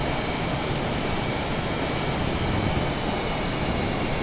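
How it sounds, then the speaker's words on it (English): Flaps extend on a vintage aircraft in Microsoft Flight Simulator under a steady, dense cockpit roar of engine and airflow noise. It holds constant and loud throughout with no voices. "Alright, now that's a set of flaps."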